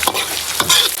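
Dried chillies, Sichuan peppercorns and star anise stir-fried in hot oil: a short, loud run of spatula scrapes and crackling sizzle in quick bursts.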